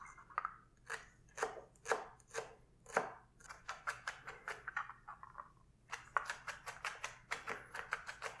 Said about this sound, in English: I chop my shallots just the same way as I chop my onions.